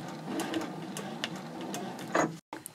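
A sewing machine runs steadily at close range, stitching quilting lines on a small mini backpack card holder, with a brief pause near the end before it resumes.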